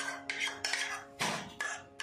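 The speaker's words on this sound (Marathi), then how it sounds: "हे दही फेटून घेतले" Curd is whisked in a bowl at close range, giving a quick series of clinking, scraping strokes of utensil against the bowl, with short pauses between strokes.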